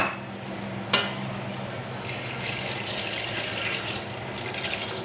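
Water is poured from a bowl into a cooking pot for chicken tehri, a steady, soft splashing stream with a clink near the start and no talk.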